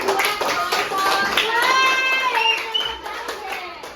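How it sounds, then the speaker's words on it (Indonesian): Students in a classroom clap for a presenting student group during a lesson, a dense patter of hands lasting several seconds with children's voices calling out over it. "tepuk tangan dulu buat kelompok."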